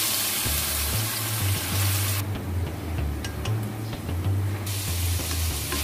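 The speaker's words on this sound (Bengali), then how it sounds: "এখন পেঁয়াজ ছিটবে, পেঁয়াজ বাটা দিব তো তাই" Onion paste hitting hot oil with a little salt in a pan, giving a steady close sizzle and spatter that runs unbroken and loud throughout, with no voices.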